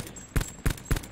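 Video game gunfire sounds as three quick, evenly spaced bursts of shots at a moderate distance, each a short sharp crack with a steady quiet background between them.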